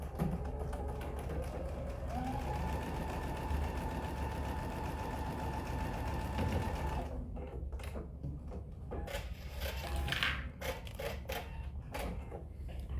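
A sewing machine stitches a quarter inch seam on a pocket bag, giving a steady mechanical whir for several seconds before it slows into fainter, uneven clicks and handling sounds.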